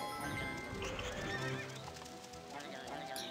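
A horse in a video game gives a loud whinny over rhythmic clip-clop hooves, with game music and sound effects layered underneath.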